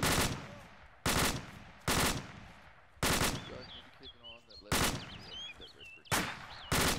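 Covering fire in a multiplayer shooter game: loud, rapid bursts of automatic gunfire repeat in a steady rhythm, close by, while players talk over the shots.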